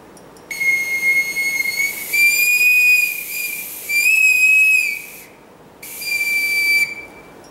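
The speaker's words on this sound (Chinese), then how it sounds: "一种哨子，我们简称它叫海军哨" A navy boatswain's pipe, a curved whistle with a ball-shaped end, sounds loud and close in several long shrill calls, some rising and falling in pitch, separated by short silent gaps.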